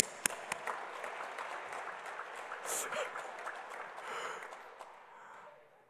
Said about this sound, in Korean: 우리 한번 하나님께 영광의 박수 올립시다.